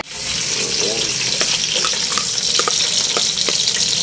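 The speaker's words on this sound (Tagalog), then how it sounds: "Nagigisa na siya ng spaghetti sauce" Spaghetti sauce sautéing in a pan in a home kitchen, a steady broadband sizzle with scattered clicks of stirring throughout, loud and close, with a voice speaking briefly over it.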